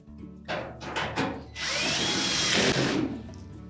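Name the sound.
power drill installing retaining screw on Whirlpool dryer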